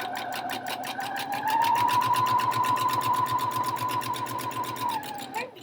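A sewing machine runs steadily for about five seconds, stitching two rows across the front and back of a skirt, with a fast even whir that speeds up slightly and then stops at the end.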